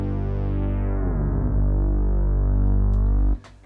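Sustained bass note from an EX7 keyboard synthesizer whose pitch slides downward via the modulation wheel, a single loud, close tone held for about three seconds before cutting off abruptly.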